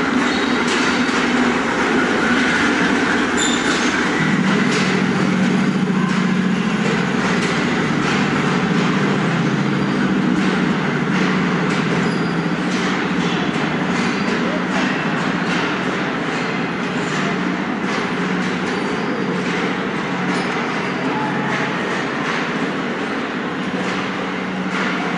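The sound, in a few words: train arriving at Lahore Railway Station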